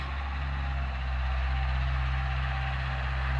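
A small Ferrari tractor engine runs steadily up close, a deep low rumble with a constant hum, loud and continuous throughout on a mountain farm.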